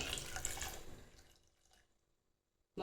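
Water pours steadily into a pressure cooker, trailing off to silence before a brief clunk at the end.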